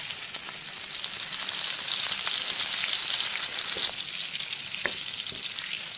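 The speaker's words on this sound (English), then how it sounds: "To this, I'm adding a block of butter. And let this butter melt and combine with the oil." A block of butter melts into hot oil in a pan for butter garlic prawns, giving a steady, close, bright sizzle and crackle throughout, with a few louder pops and no voices.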